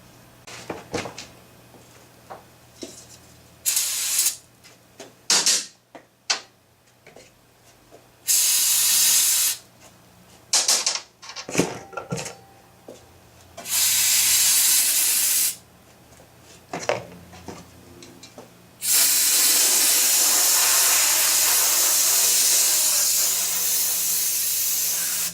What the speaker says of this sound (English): How long does a can of brake cleaner last? About 3 seconds.